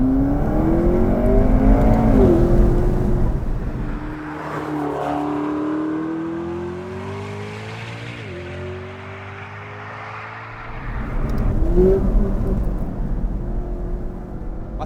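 A McLaren 12C in track power mode accelerates hard through several gears, with its engine note rising, dropping at each shift and rising again, loud and close from inside the car.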